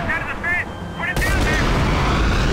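Gunfire in the Max Payne 3 video game during a sniping sequence: a heavy, booming shot lands after a brief stretch of quieter sound, then its loud blast rolls on and decays.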